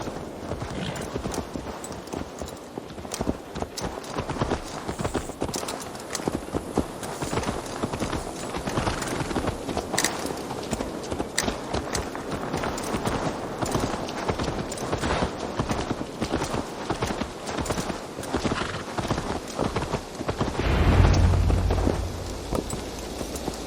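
Steady clip-clop of horse hooves trotting along in the video game Assassin's Creed Valhalla, continuous and fairly close, over a soft rainy hiss with a brief low thump near the end.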